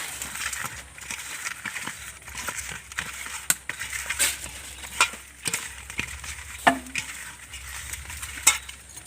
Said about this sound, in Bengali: এদিকে আমি মাছটা ভাজার জন্য মাছে নুন আর হলুদটা মাখিয়ে নেব